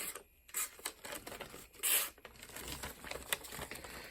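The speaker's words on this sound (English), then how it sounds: "This thing cuts paper like it's nobody's business." A Bowie knife with 8670 steel blade slices through paper with crisp tearing and crinkling swipes, one sharp louder cut in the middle, close and without talk.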